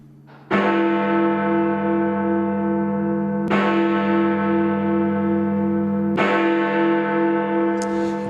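Large church bell strikes three times, each deep harmonic toll ringing out and decaying slowly into the next, loud and close with no voices, in Whitechapel, London.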